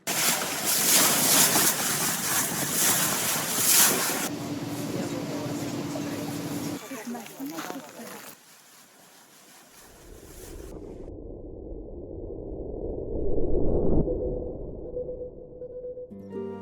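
A boat sails on Lake Nasser in Egypt toward Sudan, with loud rushing wind and water noise that later drops to a quieter, low churning wash.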